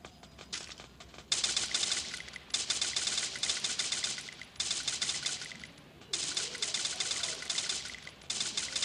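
Rapid bursts of automatic gunfire in the video game Free Fire, several long volleys separated by short pauses, sharp and fairly close, with a faint tinkling of falling casings.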